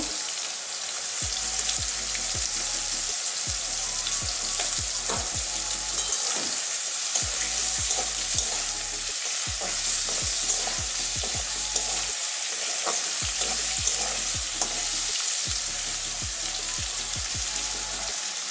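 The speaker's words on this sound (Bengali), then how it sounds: "লবণ ভেজে নেব পটলের মধ্যে একটু হলুদ দিয়ে দেবো" Pointed gourd fries in a pan with salt and turmeric, giving a steady, loud, close sizzle throughout, broken by repeated scraping strokes of a spatula stirring the pieces. No one speaks.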